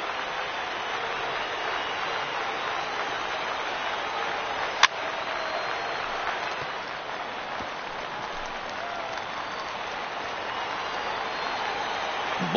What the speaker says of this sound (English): Now what's left of this crowd this afternoon gets to their feet